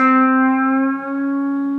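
A single sustained electric guitar note, bent with the index finger in a blues lick in A, rings clean and loud for under two seconds with a slight dip midway, heard alone.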